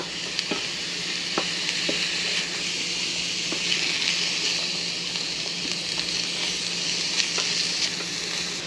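Peppers and onions fry in a pan on medium heat, giving an even, continuous sizzle with scattered light taps and scrapes from stirring, close and unaccompanied by speech.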